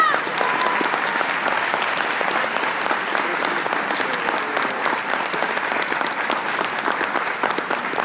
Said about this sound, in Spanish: No saben cómo les agradezco sus aplausos